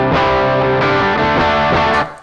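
Electric guitar played through a Tech21 Richie Kotzen RK5 V2 pedal on a basic amp tone: loud, sustained distorted chords that change every second or so, then cut off and ring out at the end.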